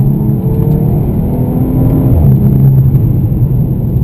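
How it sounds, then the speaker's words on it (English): Steady engine roar inside a 2015 Volkswagen Scirocco R hot hatch under hard acceleration, a loud continuous drone with a faint high turbo whistle riding on top, no voices. "And you just hear that turbo whistling away."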